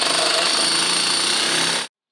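A rotary hammer drilling through collapsed building rubble, a loud, steady, rapid hammering roar held at close range for nearly two seconds before cutting off abruptly.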